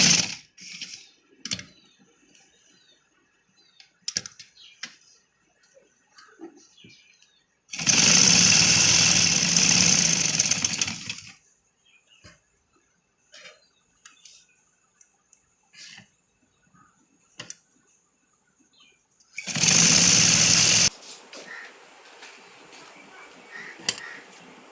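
Sewing machine stitching a pleated palazzo, heard in two loud bursts of steady running, one lasting about three seconds and a shorter one later, separated by quiet stretches of small handling clicks and taps.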